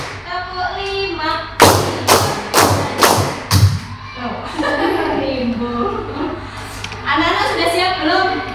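Five quick unison claps from a group of schoolchildren in a classroom ring out on a counted beat, then give way to children's chatter and a teacher talking.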